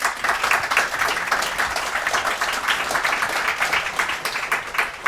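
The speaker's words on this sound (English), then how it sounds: "a warm round of applause and hand over to Andy." A London Unity user group meetup audience gives warm, continuous applause, many hands clapping at an even, fairly loud level for several seconds without speech.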